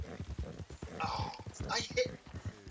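Horse hooves clip-clopping at a gallop in the Red Dead video game, a quick rhythmic pounding heard close and steady beneath continuous talking from a player.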